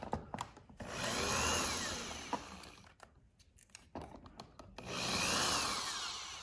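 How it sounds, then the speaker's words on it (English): A power drill unscrews screws from the top hinge of a sunroom door in two long whirring bursts, with short clicks and handling knocks between them, close and alone. "first we're gonna unscrew all of the screws on this top hinge"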